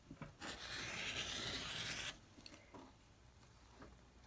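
A blade cuts a fabric strip along a 2.5 inch wide ruler on a cutting mat, making a two-second rasping slice followed by faint taps, soft and close.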